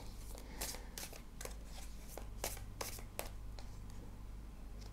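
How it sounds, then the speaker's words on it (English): A deck of tarot cards is shuffled by hand in a quiet room, a run of soft, crisp riffling bursts in irregular rhythm, close and faint, with no talking. "Let's keep shuffling."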